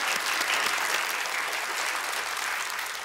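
A TV quiz show's studio audience claps in sustained, even applause, a dense crackle of many hands held at steady loudness for a few seconds before easing slightly.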